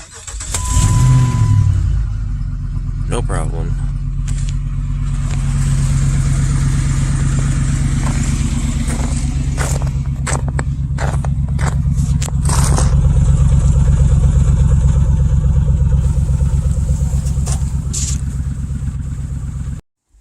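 Jeep with a 5.7 Hemi engine cold starting: a brief starter crank catches into a loud, throaty V8 that settles into a steady, close, rumbling idle for the rest of the clip.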